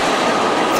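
Steady, heavy rumble of a passing EMD SD40-2 diesel locomotive train, dense low-to-mid roar with faint rolling wheel clatter, close and loud throughout.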